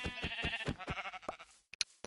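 Sheep in Minecraft bleat repeatedly in a fast, rhythmic string of close, loud calls, which fade out and are then followed by two sharp, brief sounds.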